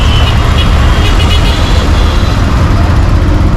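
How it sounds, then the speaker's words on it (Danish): Dense street traffic in Old Delhi, a loud, continuous wash of engines and road noise with horns tooting in the mix, recorded close and unbroken. "Kom trafikken igen."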